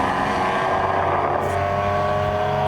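Car engine note on the Nurburgring Nordschleife during a Touristenfahrten session on a drying track after rain, a steady loud drone with layered harmonics that swells slightly as it pulls, with no talking over it.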